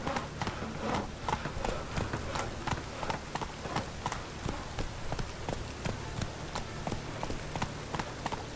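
Roach the horse from The Witcher 3 gallops steadily, a regular run of close hoof clip-clops over a soft rain-like background hiss.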